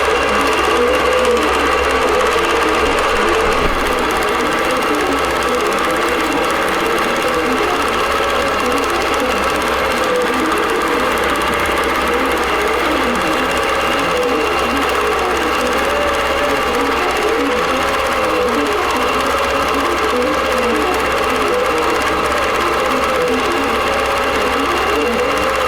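A quilting machine stitches an applique quilt design with a continuous, loud mechanical whir that holds steady throughout, its motor rising and falling in a regular rhythm.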